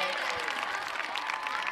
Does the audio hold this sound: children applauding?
yes